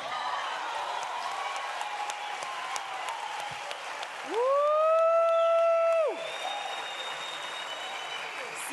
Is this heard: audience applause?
yes